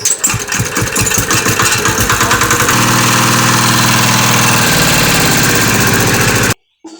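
A machine engine fed by a pipe from a separate oil container after its fuel tank failed, running loud and close with a steady rapid chugging throb, then cutting off abruptly near the end.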